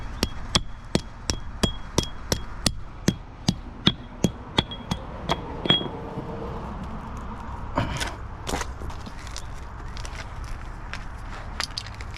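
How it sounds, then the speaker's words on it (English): Stones being hammered down beneath a granite patio slab, a quick run of sharp, evenly spaced metallic whacks up close, then slower scattered knocks and scraping as the work eases off. "I'll put some nice stones in there and whack those down below just to make sure it's nice and firm and snug"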